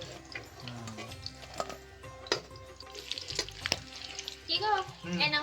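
Chicken for dry chili chicken sizzles and crackles steadily in a hot pan, with scraping stirs and brief clatter nearby, and a voice speaks softly at moments.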